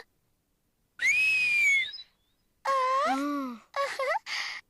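A young girl whistles a long, rising note, then after a pause produces several shorter whistled bursts, some wavering and breathy, close and alone with no talk.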